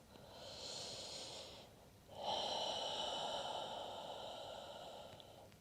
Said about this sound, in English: Taking 2 more breaths.